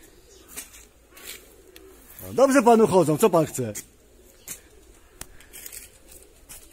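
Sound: pigeons cooing

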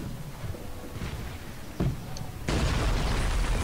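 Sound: cannon fire from the coast in video game Cossacks 3

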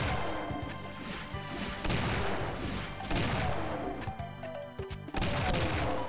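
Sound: weapon firing twice in video game Golden Souls

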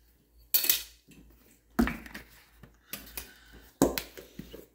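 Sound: mixing potato fritter batter with oil in a dish

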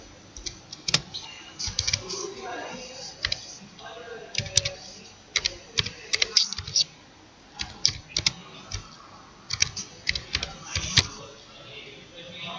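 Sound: typing on a computer keyboard

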